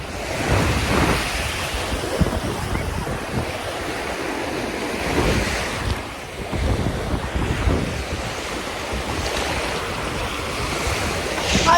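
Rough sea waves crash and churn continuously at the shore, with heavy wind buffeting the microphone throughout.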